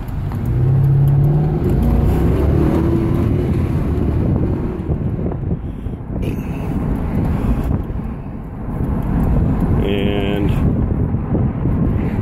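A Ford Thunderbird engine revs and pulls hard under acceleration while the car drives, its transmission shifting, heard from inside the cabin with wind buffeting the microphone and a voice talking over it.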